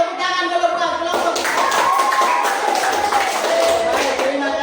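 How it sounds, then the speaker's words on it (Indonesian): A classroom of pupils claps for a group that has just finished presenting its discussion work, a dense, steady patter of many hands running throughout, with voices audible alongside. "Tepuk tangan dulu buat kelompok."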